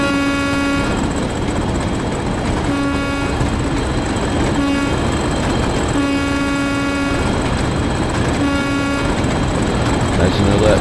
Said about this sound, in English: There's another train just passing.